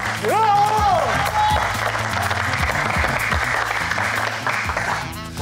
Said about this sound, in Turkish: Ayfer hocamıza da lütfen bir alkış alalım.